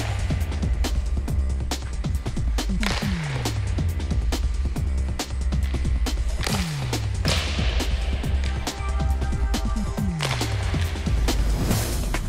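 Ice hockey players skate in on a rink and fire snapshots, with gliding skate scrapes and sharp stick-and-puck cracks repeating every few seconds, loud and echoing in the arena.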